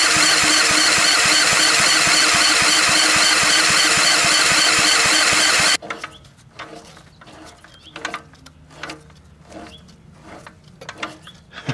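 1950s Toro Sportlawn power reel mower engine being cranked to start, with loud, continuous mechanical churning for about six seconds, then quieter intermittent clanks and rattles.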